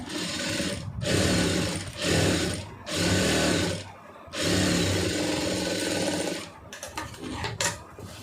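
A sewing machine runs a line of stitches through fabric while a tailoring band is being joined, in several loud, steady bursts of whirring separated by short pauses, ending in quicker stop-start runs.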